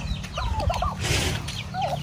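A turkey gobbles twice in quick bursts, fairly close, over a low steady background hum.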